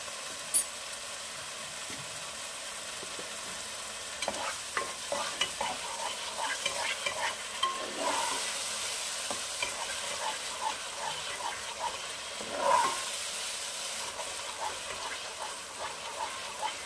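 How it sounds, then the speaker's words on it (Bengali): Spice masala is stir-fried in a pan for dry cauliflower curry, a soft continuous sizzle with frequent light spatula scrapes and taps, a little louder around the middle and again near the end. "এটা যেহেতু ঝোল হবে না, সেহেতু মশলাটাকে খুব ভালো করে কষাতে হবে।"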